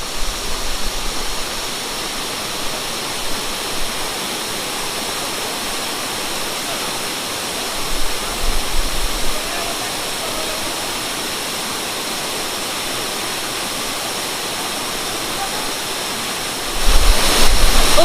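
A steady, full roar of falling water from Sitakund waterfall in Odisha runs throughout, dense and constant, with brief louder surges near the end.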